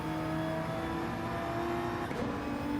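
Race car engines drone steadily in a sim racing game with a McLaren running just ahead, a sustained tonal hum at moderate distance with a slight pitch shift near the end as the cars close up, and no voice over it.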